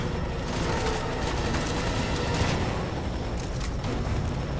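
Dense gunfire and explosions from the video game Fear 3 rattle on continuously, loud and close, a chaotic fusillade of rapid shots with booming impacts and no speech over it.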